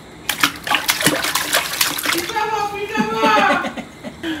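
Water splashes and sloshes over people getting drenched, with scattered splash bursts early on and voices talking and laughing close by throughout.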